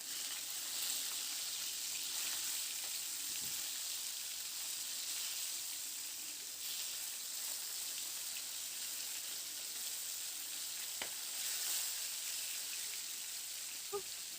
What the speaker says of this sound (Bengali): মাছগুলোকে এপিট ওপিট করে ভেজে বেশ লাল লাল রং ধরা পর্যন্ত মাছগুলোকে ভেজে নেব।